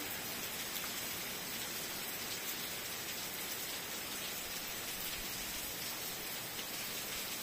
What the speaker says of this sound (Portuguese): Eita, chuvinha boa, gente do céu.